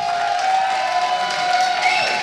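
Steady applause and crowd noise from an esports audience at IEM Cologne during a StarCraft match, a continuous wash of clapping with a faint tonal hum underneath.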